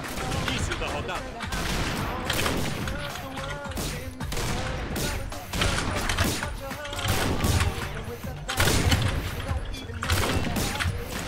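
Rapid gunfire bursts in the video game Combat Arms at the start of a round, loud and dense throughout, with someone talking excitedly over it.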